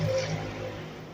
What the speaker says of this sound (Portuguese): a moto passa bem agora.